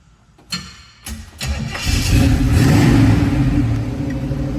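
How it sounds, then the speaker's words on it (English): A 1967 Chevrolet Camaro with a 350 V8 and 350 automatic transmission cranks with two or three short starter bursts, then catches and settles into a loud, steady rumbling idle close by, with no voices over it. "Very reliable 350 with the 350 automatic transmission. Let's fire it up."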